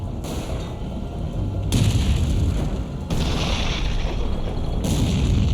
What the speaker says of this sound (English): The sound of gunfire alerts a platoon of American M18 tank destroyers